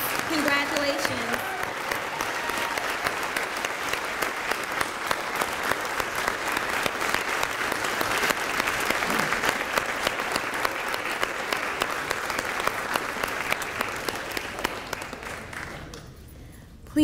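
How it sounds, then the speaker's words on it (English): A police department audience claps for promotees and graduates at a promotions and badge pinning ceremony, long sustained applause that holds steady before fading out near the end, with some voices underneath. "Please join me in giving a round of applause to the promotees and the graduates."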